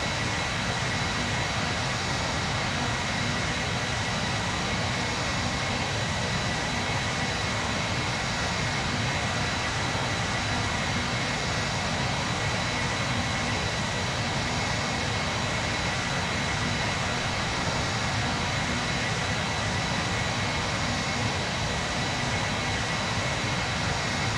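A QualityWings 757-200 jetliner climbs in a flight simulator game, with a constant, loud, broadband engine roar and airflow drone that stays unchanged throughout.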